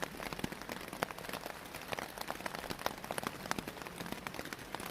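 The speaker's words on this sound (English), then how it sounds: "It's raining outside." Rain falls outside onto a hammock's winter cover along a river trail, a soft, continuous patter with dense crisp drops, heard close and steady with no talking.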